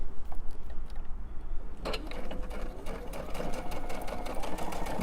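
A sewing machine stitches an elephant stuffed animal, starting with a faint tapping and then settling into a steady, close, moderately loud mechanical whir.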